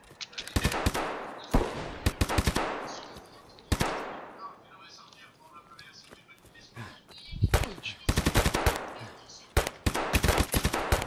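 Bursts of gunfire in the shooter game Escape from Tarkov, loud and sharp, with rapid clustered shots at the start and near the end and a quieter stretch in between.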